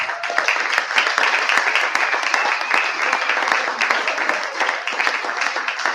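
Steady audience applause fills an awards night for a football organisation, dense clapping from many hands sustained throughout with a faint voice underneath.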